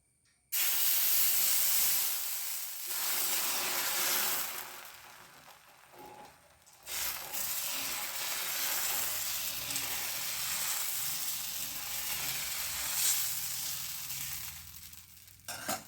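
Green gram and ragi dosa batter sizzles on a hot tava greased with coconut oil, a loud, steady frying hiss that starts abruptly and continues without talk, dipping slightly at moments.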